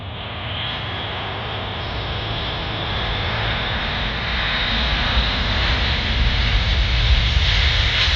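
Loud, steady roar of a C-17 transport aircraft's jet engines, open for reverse thrust during an airshow assault landing demo, broadband and sustained, swelling slightly louder toward the end with no pauses.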